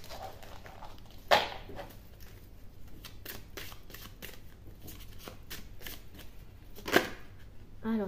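Tarot cards are shuffled by hand in repeated soft riffling and sliding bursts, close and moderately quiet, with a couple of sharper snaps of cards hitting together.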